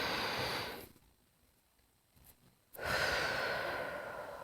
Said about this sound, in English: Let's take a nice deep breath.